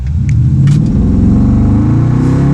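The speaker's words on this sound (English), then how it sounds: "Hey, let's see how this accelerates. Let's put the foot to the ground." A 388-horsepower B55 car accelerates hard with the pedal to the floor, its engine rumbling loud and close and climbing steadily in pitch under full throttle, with no voices over it.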